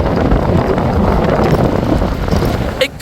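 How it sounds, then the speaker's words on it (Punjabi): Loud, constant roar of wind buffeting the microphone on a motorcycle ride along a mountain road near Jibhi beside a stream of flowing water, the engine and water blended into one continuous rush. "ਸ਼ੋਰ ਪਾਣੀ ਦਾ ਤੇ ਇੱਕ ਹਵਾ ਦਾ ਤੇ ਤੀਸਰਾ ਮੋਟਰਸਾਈਕਲ ਦਾ"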